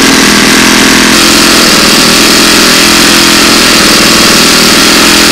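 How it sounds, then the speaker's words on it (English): Model airplane nitro glow engine running on 5% fuel, a loud, steady, buzzing high-pitched drone held close for several seconds with a slight shift in tone partway through, no talking. "Just one of the many engines we want to test in the next year in our test planes and possibly in the Typhoon."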